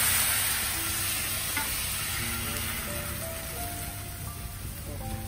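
Bánh xèo batter sizzling and crackling in hot oil in a pan, a dense, steady, close frying hiss that continues throughout.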